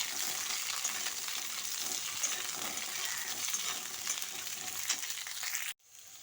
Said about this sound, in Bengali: ঝিঙেগুলো দিয়ে কালো জিরের সঙ্গে ভালো করে নেড়ে চেড়ে মিশিয়ে নিচ্ছি।